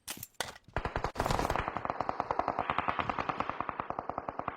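A red gun fires in a shooter video game: a couple of loud opening shots, then a long, rapid, evenly spaced automatic burst of sharp cracks, close and punchy.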